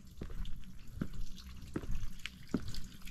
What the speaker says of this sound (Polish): Woda się tu leje.